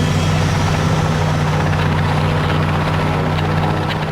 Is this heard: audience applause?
no